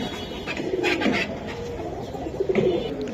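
Pigeons coo in soft, repeated low calls, sitting close by among the birds on sale, with a few brief faint clicks and rustles between the calls.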